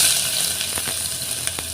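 Chopped onion with cinnamon and bay leaves hits hot oil for mutton-fat khichuri, a loud, close, continuous sizzle broken by a few light stirring taps, with no talk.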